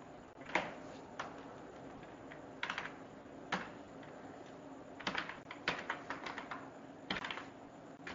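Code being typed on a computer keyboard in a Code.org Game Lab session, with scattered bursts of close key clicks separated by short pauses, faint and without talk.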